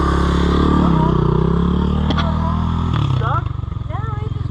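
A dirt bike engine labouring in first gear, a loud, close, steady drone with rising and falling revs and a rougher, pulsing putter near the end, as voices talk over it.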